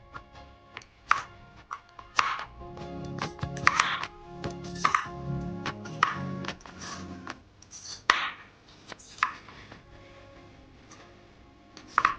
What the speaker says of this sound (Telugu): ఈలోపు మనము ఆనియన్స్ కట్ చేసుకుందాం.